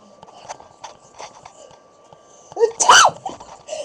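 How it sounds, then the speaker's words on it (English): A person lets out one sharp, loud sneeze near the end, preceded by quiet shuffling and faint background noise. "that was just me sneezing"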